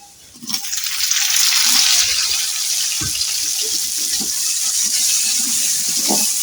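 Chopped tomato hits onions already fried in a pan, and a loud sizzle rises and holds steady while a spoon stirs with occasional soft knocks.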